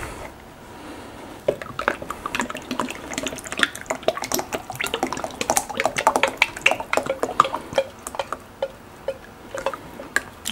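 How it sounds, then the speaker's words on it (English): Two-part resin and dye being poured into a plastic mixing container, a trickling, splashy flow with irregular ticks and glugs, close and fairly loud, no talk. "pour our part A and part B into the mixing container along with our dye"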